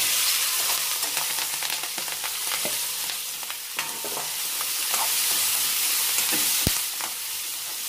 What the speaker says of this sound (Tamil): இதிலே வெங்காய மிளகாயை போட்டுக்கலாம்